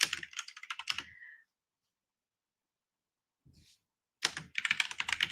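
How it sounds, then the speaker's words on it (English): Loud typing on a computer keyboard comes in two dense bursts of rapid, close clatter, separated by a quiet gap with a couple of faint taps. "Sorry again for my loud typing."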